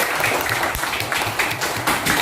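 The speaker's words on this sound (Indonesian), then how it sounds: "Oke, tepuk tangan untuk kita semua terlebih dahulu." Children clapping together in a classroom, a steady dense patter of hands at moderate loudness lasting a couple of seconds, with a little background voice underneath.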